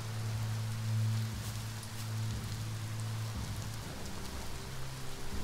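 Steady rain falling in the video game Biomutant, a constant wash of drops spread across the clip alongside a low, sustained game drone, heard alone without talk.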